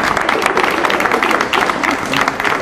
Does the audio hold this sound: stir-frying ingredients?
no